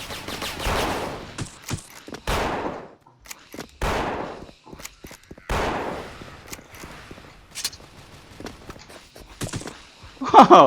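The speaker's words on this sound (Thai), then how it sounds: "แม่งลูกซองแม่งเบาจัด ยิงมันไม่ตายลูกซองเลย" Gunfire in the shooter Special Force, including a shotgun, cracks out as sharp loud blasts spaced a second or two apart, each with a short decaying tail, with quieter rustle between.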